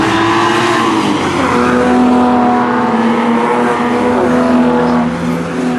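A Jaguar XJS race car at Mallory Park drives past with a loud, steady engine drone and sustained tonal hum, close and continuous, rising slightly in pitch and then easing off near the end.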